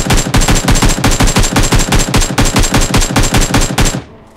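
Rapid automatic gunfire from a weapon in the battle royale game BGMI, a steady, loud burst of evenly spaced shots running nearly four seconds before cutting off, no voices.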